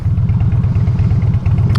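A motorcycle on a back road between Atascadero and Paso Robles rumbles close and loud with a steady throbbing low engine pulse, a brief snatch of its passing with no talk.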